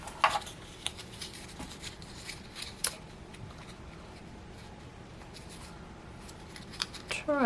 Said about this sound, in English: I'm going to fold it in half.